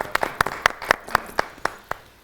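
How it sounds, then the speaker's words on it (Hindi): Applause for a band with dholak, keyboard and bass guitar players on a morning TV show: a small group claps in a loose, spaced rhythm of about ten distinct claps, fairly quiet and tapering off. "तो आप लोगों के लिए भी बहुत सी तालियां।"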